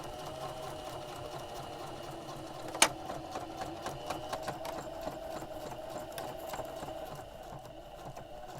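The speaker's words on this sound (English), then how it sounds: "put it in the sewing machine" A sewing machine runs steadily while stitching a seam on a fabric cover for an Olympian Wave 3 heater. The mechanical whir is continuous, with a single sharp click near the start and a faint rattle.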